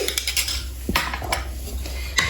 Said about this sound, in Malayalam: നമ്മൾ വാട്ടർ ഒഴിച്ചു കൊടുത്ത് ഒന്ന് ഇളക്കി